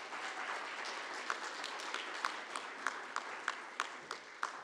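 Audience applause for a graduating master's student at a business school commencement ceremony in Switzerland: a steady, dense wash of clapping from a crowd, moderately distant, with a few sharper individual claps standing out throughout.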